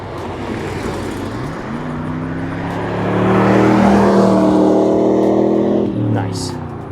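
A 1999 Pontiac Trans Am V8 approaches and drives past, its engine note rising from a low rumble to a loud, throaty roar at its closest, then easing off as it moves away; people can be heard talking under the engine.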